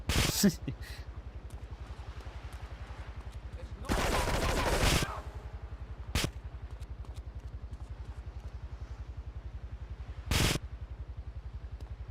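Gunfire from a weapon in Grand Theft Auto 3 Definitive Edition: loud, sharp bursts, one long volley and a few single shots, over a constant low game rumble.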